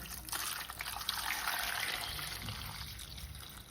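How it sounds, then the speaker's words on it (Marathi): Potatoes are rinsed under running clean water, making a faint, steady trickle and splash of flowing water with no voices. "बटाटे आता आपल्याला स्वच्छ पाण्याने धुवून घ्यायचेत."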